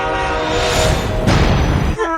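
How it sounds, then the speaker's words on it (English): A freight train horn from the film Unstoppable blares loud and close, a sustained harmonic blast with a surge partway through, over rumbling wheels, cutting off abruptly near the end. "It just keeps playing the train horn."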